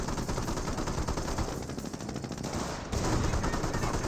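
Small arms fire from the World War II strategy game Company of Heroes, dense rapid rifle and machine gun rattle running continuously and loud, intensifying slightly toward the end.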